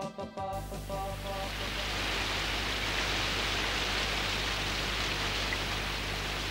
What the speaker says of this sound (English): The rain was falling on Moomin Valley as though the heavens had decided to empty themselves.